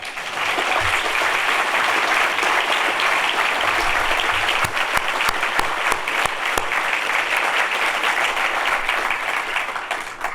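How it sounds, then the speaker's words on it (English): Audience gives a loud, sustained round of applause at an MBA graduation ceremony, a dense roar of many hands clapping throughout, close and continuous. "give them a very, very warm round of applause"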